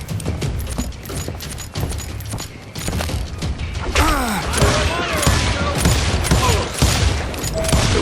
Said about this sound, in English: They made up for their lack of skill with a seemingly endless supply of ammo.